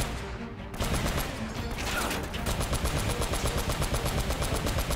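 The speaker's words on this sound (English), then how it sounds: "Oh, I found the turret. That's where I got shot from." A turret in the video game Uncharted: Drake's Fortune fires in a loud, sustained burst of rapid automatic gunfire that barely pauses, with dense repeating shots.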